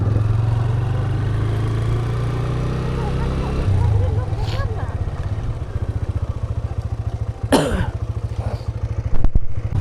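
Engine noise from motorcycles and cars passing at Sonajhuri haat near Bolpur, with a steady low rumble that fades midway and is followed by a few brief sharp clatters.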